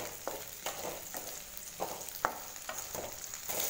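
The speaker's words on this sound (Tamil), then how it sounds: "வெண்டைக்காய் நான் நல்லா வதக்கி விட்டுட்டேன்" Okra and onion sautéing over high flame for vendakkai kara puli kulambu, a soft, quiet sizzle with regular stirring scrapes every half second or so and one sharper clink.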